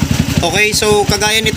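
Motorcycle fitted with an aftermarket pipe idling on a lean mixture, a steady low, pulsing engine rumble under someone talking close by.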